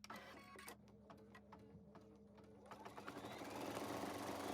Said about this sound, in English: Next, we'll embroider the back of our bag.